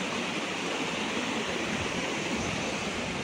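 Water rushes over a rock slab at a waterfall spot, a dense, even roar of broadband noise that stays constant and close throughout, with no voices.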